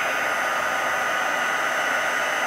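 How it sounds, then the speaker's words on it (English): A heat embossing tool blows hot air in a steady, close, continuous rushing hiss with no other sounds. "I'm going to use the heating tool and just barely heat it halfway."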